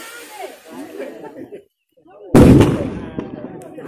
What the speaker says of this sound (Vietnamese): Không, đây pháo bông mà.